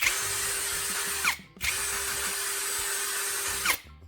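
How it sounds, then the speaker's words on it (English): Cordless drill with a fresh battery spinning up, running at a strong steady whine for over a second, stopping briefly, then running again before winding down, close and loud with no talk. "The drill starts right up and runs strong."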